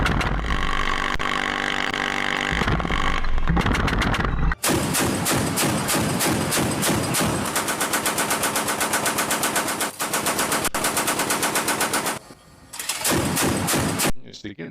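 A Bushmaster naval cannon on a Philippine Navy warship fires long sustained bursts of rapid heavy shots, loud and dense, with brief breaks between strings of fire.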